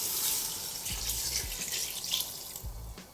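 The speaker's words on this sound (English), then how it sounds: "I add in about 6 cups of water." Water running steadily from a tap into a pot for beef soup, a continuous close hiss and splash with a few low bumps of the pot, no talk.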